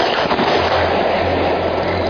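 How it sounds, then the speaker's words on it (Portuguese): Fireworks launched toward a light in the night sky crackle and roar in a loud, continuous dense burst, close by and unbroken, with no talk over it. "alguém solta fogos de artifício em direção à luz"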